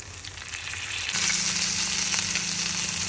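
Fish fries in a pan with a steady, close sizzle that swells louder partway through and then holds level.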